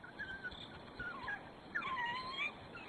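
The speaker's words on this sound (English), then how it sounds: "the yelps that smell elicits cue a ready response from them to regurgitate their meal" A pack of African wild dogs in the wild yelping and whining, thin high wavering cries rising and falling in short bursts over a soft background hiss.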